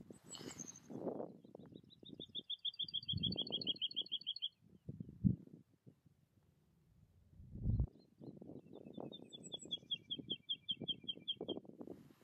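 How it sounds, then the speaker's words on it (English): Woodlarks sing in the Dutch countryside on a winter morning: two long, high, liquid trills, thin and somewhat distant, over a low rumble of wind and handling noise. "the early morning was filled with the song of the many woodlarks in the area."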